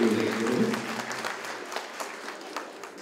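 An audience claps for Kalabhavan Siddique at a stage event, a burst of applause that fades over a few seconds after a loud start.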